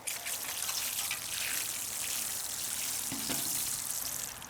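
Water pours and trickles onto newly planted lettuce seedlings in a container, a steady close splashing hiss lasting several seconds with no voices.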